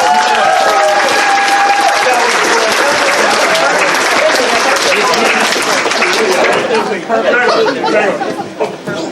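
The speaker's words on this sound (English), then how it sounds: "Give them a round of applause." Audience applause fills a convention charity event hall, loud dense clapping mixed with crowd chatter and a few voices, tapering off near the end.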